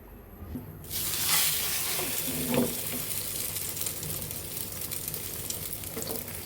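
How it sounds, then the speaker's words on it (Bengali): Egg paratha frying in oil, a steady loud sizzle that starts abruptly about a second in after quiet, with faint clinks and no talk. "আমাদের মাখানো হয়ে গিয়েছে এখন তেলে ভেজে নিব"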